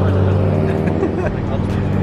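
Steady engine rumble of cars leaving a JDM car meet nearby, a continuous low drone with faint voices in the background.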